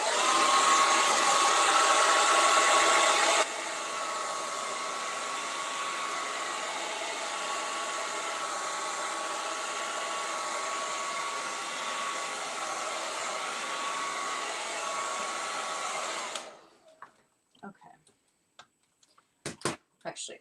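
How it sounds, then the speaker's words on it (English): A hair dryer blow drying a painting, a steady close whooshing hum with a whining tone that runs for about sixteen seconds and then cuts off, leaving faint scattered knocks. "So I'm going to blow dry it"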